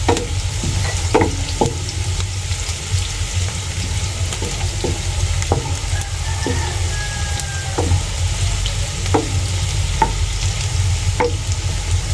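Garlic and onion fry in a pan with a steady, loud sizzle, while a spatula scrapes and taps the pan now and then.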